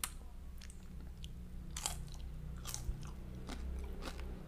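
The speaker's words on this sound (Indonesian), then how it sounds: "Kriuk banget. Itu ikan asin yang paling gue sukain." Crunchy fried salted fish being bitten and chewed close up, eaten with sambal terasi, giving a series of sharp, crisp crackles over a quiet background.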